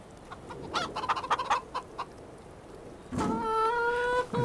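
Chickens in Farming Simulator 25 cluck in a quick uneven run of short calls, then a louder sustained drawn-out cackle rises near the end, heard clearly against a quiet background with no talking.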